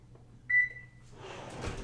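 An oven timer is set while a Reese's cheesecake goes in to bake: a single clear electronic beep rings out, followed by a soft, noisy rustle and clatter of kitchen handling.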